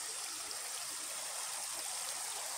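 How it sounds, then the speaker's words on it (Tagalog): Clear mountain stream water flows steadily near a nature trail, a continuous bright rushing and trickling hiss that is close and fairly loud, with no voices over it. "Ito yung tubig na galing dun sa bundok."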